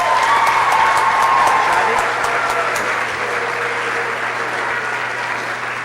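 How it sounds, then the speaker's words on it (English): Audience at a school class day applauding a future soldier, dense sustained clapping close and loud at first, then easing into a softer wash of applause with faint crowd murmur underneath. "let's give her a round of applause"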